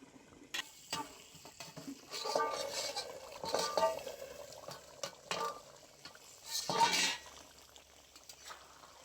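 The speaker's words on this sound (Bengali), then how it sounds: "মাঝে একবার ঢাকনা খুলে নেড়ে নেব" A pot of chicken curry with new potatoes being stirred after the lid comes off, with scraping spoon strokes and metallic clinks against the pot in several close bursts over a quiet simmer.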